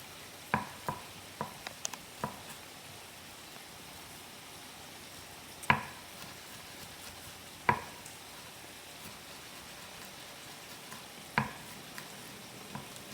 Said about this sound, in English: All the onions and garlic are going in.